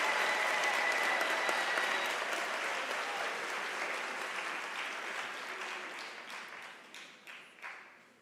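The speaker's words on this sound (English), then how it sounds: "Ladies and gentlemen, can we give our graduates and diplomats a round of applause?" A large graduation ceremony audience at a University of South Africa autumn graduation applauds steadily, a dense wash of clapping that gradually thins and fades toward the end.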